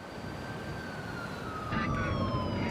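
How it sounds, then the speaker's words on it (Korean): An ambulance siren carrying a woman in labour to hospital rises and falls steadily under a continuous rumble of road noise, held clear and moderately loud throughout as part of a played video. "구급차가 산모를 태우고 병원으로 이송합니다."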